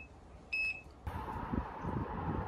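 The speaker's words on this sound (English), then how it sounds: "If I get a beep, then I have continuity and the fuse is working correctly." A multimeter gives one short, high continuity beep while testing a 5-amp fuse from an RV refrigerator's power control board, followed by close handling and rustling noise.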